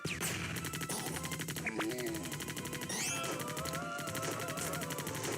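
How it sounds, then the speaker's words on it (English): Rapid, dense weapon fire in a gallery shooter video game, with a grenade launcher among the shots, forming a loud continuous barrage over busy game music and effects. "And let's take out him with the grenade"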